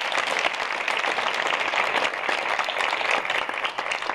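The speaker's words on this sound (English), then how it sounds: "let's give all these previous Hall of Famers a nice round of applause" A banquet audience at a school foundation's Hall of Fame evening gives a warm round of applause for past inductees, dense even clapping sustained throughout at moderate loudness with no talk over it.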